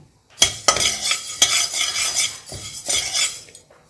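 Dry coriander seeds being roasted in a hot pan over medium heat, a metal spoon scraping and clinking in uneven strokes with a light rustling rattle, close by.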